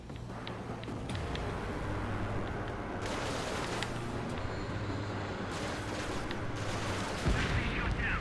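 Aerial combat in the Ace Combat 7 video game: dense, continuous gunfire and rumbling explosions fill the whole stretch at steady loudness, with a louder burst near the end, under faint radio chatter.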